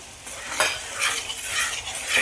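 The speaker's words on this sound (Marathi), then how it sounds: "तर अशा पद्धतीने मी इथं परतून घेत आहे" Egg bhurji with homemade black masala is sautéed in a pan, giving a continuous sizzle with repeated scraping strokes of a spatula, close and fairly loud.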